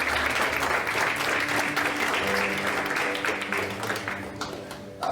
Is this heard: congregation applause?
yes